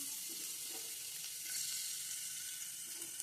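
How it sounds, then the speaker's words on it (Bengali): Chopped garlic dropped into hot oil for a chilli prawn dish gives a steady, quiet sizzle with faint stirring, no talking. "তেল গরম হয়ে গেছে, এতে আমি দেবো রসুন কুচি"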